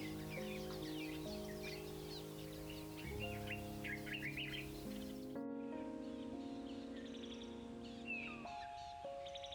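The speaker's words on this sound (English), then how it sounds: "the Montezuma Oropendola, a colonial bird whose loud, bubbling calls carry through the forest like nothing else" Montezuma oropendolas call in a Costa Rican forest, loud gurgling and bubbling phrases with liquid tones rising over a dense, continuous chorus of other birds chirping and tweeting close by.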